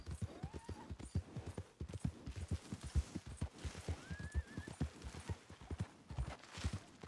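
Horse hooves clip-clop at a steady trot in Red Dead Redemption 2, close and rhythmic, with a faint whinny breaking in twice.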